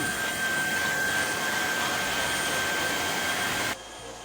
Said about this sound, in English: I can change to suction then.